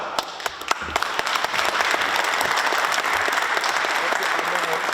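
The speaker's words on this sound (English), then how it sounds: "Huge round of applause." At a men's meeting, a few separate claps ring out first, then the audience joins in and swells into full, sustained applause with some voices mixed in.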